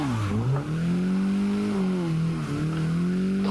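Mazda MX-5 Miata drifting at a drift park, its engine holding a steady sustained note with small rises and dips as the throttle is modulated, close and loud, with a hint of tire noise and no talking.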